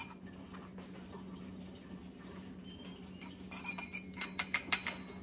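A metal spoon clinks lightly against a cup or jar while scooping ground coffee for Starbucks-style rum coffee with sea salt; a few sharp close taps cluster near the end over a low steady hum.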